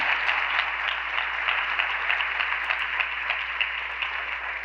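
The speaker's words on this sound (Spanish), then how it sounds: "Denle un aplauso al Señor," A church congregation claps during a Spanish-language sermon, a sustained wash of many hands at an even level throughout, without any talk on top.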